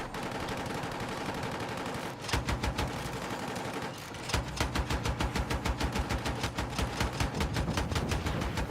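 Burst-fire gunshots in Battlefield 6, rapid rhythmic bursts of sharp cracks that pause briefly, then resume louder and heavier in a steady rattling run until the end.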